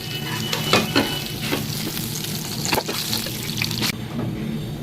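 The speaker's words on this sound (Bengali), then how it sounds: "এই তেলের মধ্যে কালো জিরে ফোড়ন দিয়ে নিলাম।" Nigella seeds tempering in hot frying oil left from fried rohu and catla fish heads, a steady close sizzle and crackle with sharp spitting bursts, no voices.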